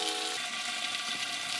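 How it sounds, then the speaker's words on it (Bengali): Country chicken curry simmers in a covered karai, giving a steady, soft hiss and gentle bubbling that holds evenly throughout with no one talking. "ভেতরে কি সুন্দর কড়াতে আওয়াজ হচ্ছে, এইভাবে কিন্তু সেদ্ধটা হচ্ছে।"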